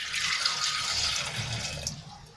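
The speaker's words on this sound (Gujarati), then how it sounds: "એમાં આપણે 1 ગ્લાસ જેટલું પાણી એડ કરી લઈશું" A glass of water is poured into a pressure cooker holding drumsticks for boiling, a brief close splashing trickle that fades out after about two seconds.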